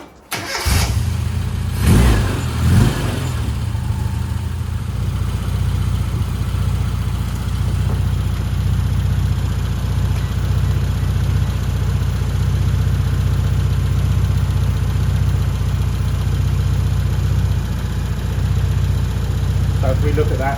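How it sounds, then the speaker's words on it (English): A car engine cranks and catches, then settles into a steady, close idle during roadside tuning work, with a brief rise in revs near the start. "So let's start the engine."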